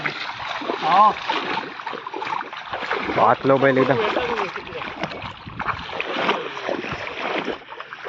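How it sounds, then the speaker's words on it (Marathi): Water splashes and sloshes in bursts as a bull is washed in Konkan, with people talking over the splashing at close range. "बैल धुवची पण एक कला आहे"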